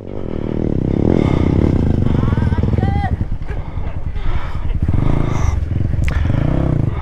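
A motorcycle revving on a rough hardcore dirt trail, its loud engine rising and falling under overlapping excited voices, with clattering and scraping mixed in close by.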